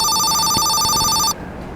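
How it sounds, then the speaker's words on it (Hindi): A phone rings with a bright, electronic, trilling tone, loud and close, sounding for just over a second before cutting off abruptly, leaving low room noise. "देखो वही मैडम का फोन है"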